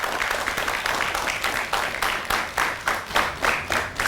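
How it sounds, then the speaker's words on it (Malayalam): An audience at a televised chat show claps for a guest, giving a short burst of moderately loud applause. It rises into rhythmic waves over about four seconds with no voices over it. "ഒന്ന് കൈയടിച്ചു കൊടുത്ത് ഈ കൺമണിക്ക് മുമ്പിൽ."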